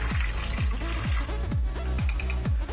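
Water is poured from a vessel into a pot holding four tomatoes and five dried chilies, giving a close series of gurgling glugs that rise in pitch in a quick rhythm, with no voices.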